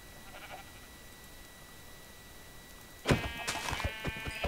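A Minecraft sheep bleats a few times in quick succession, loud and close, after a few seconds of quiet game ambience with a faint steady tone.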